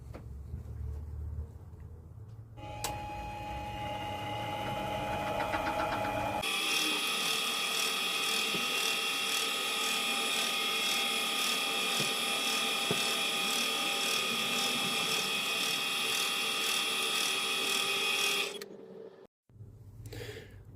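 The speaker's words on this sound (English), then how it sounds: "I am using the drill chuck on the lathe with the 4mm drill bit to drill out the centre" A lathe drills out the centre of an axle bushing with a 4mm drill bit held in the drill chuck, a continuous high-pitched whine and grinding hum, held steady for a long stretch before stopping abruptly.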